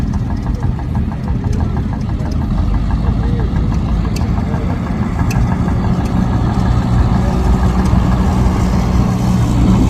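A Wheel Horse garden tractor engine runs at a steady, loud idle with a rapid knocking chug, continuous throughout amid outdoor show ambience with occasional voices.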